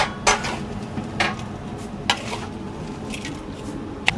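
Basmati-rice goat kacchi is mixed with spices in a pot, with a handful of sharp metallic clanks and scrapes spaced about a second apart over a soft, moist stirring background.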